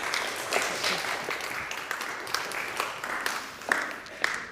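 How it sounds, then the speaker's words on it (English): A seated audience at a human-rights conference claps for a speaker, a moderate, continuous patter of hands with a few sharper individual claps standing out near the end. "I give Ingeborg a big applause"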